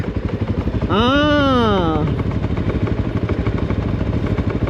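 An off-road motorcycle climbs a Hanthana trail in Sri Lanka with a loud, close, pulsing engine drone, and a rider's voice briefly calls out over it near the start.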